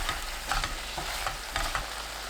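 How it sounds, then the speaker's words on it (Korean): Shishito peppers stir-fry in a pan, a constant bright sizzle punctuated by rhythmic scraping strokes of a spatula as they are tossed, close and clear with no speech. "30초 볶은 뒤 뚜껑 닫아주세요"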